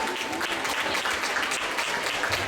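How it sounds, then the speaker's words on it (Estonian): Sustained applause from an audience at an awards ceremony for a rhythmic gymnastics group competition, dense and steady clapping throughout, close and loud. "Ja aplaus veel kord kõigile võitjatele."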